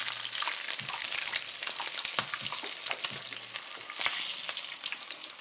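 A chicken taco fries in plenty of hot oil, folded and flipped with tongs, giving a loud, continuous crackling sizzle with scattered spitting pops.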